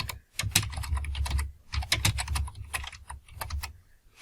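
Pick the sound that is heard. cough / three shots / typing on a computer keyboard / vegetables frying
typing on a computer keyboard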